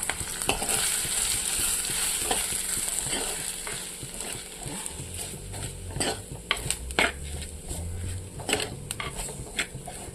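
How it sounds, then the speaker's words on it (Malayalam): Spice powders stirred and roasted with onions in a pan for a prawn and plantain theeyal curry, with soft sizzling and frying beneath repeated scraping and clinking of a utensil against the pan, close and moderately quiet. "ഈ പൊടികളെല്ലാം നമ്മൾ ഇതിനകത്തോട്ട് ഇട്ട് കൊടുക്കുകയാണ് പൊടികളൊന്ന് മൂപ്പിച്ചെടുക്കാം"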